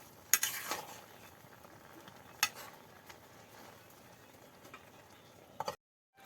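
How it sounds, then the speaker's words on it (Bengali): Jute leaves with lentils and potato sauté in a pan in a village kitchen, a soft low sizzle broken by a few sharp utensil clanks and scrapes, then sudden silence. "এই শাকগুলো এখন ভালো করে কষিয়ে নেবে।"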